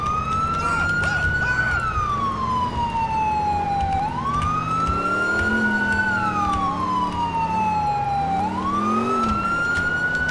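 A PA640 police car siren in GTA IV with the LCPDFR mod wails loudly and continuously, sweeping slowly up and down in pitch over a low engine rumble, with no talking.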